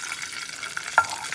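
Raisins fry briefly in ghee for carrot halwa, giving a soft, steady sizzle with one small pop near the end, and no voices.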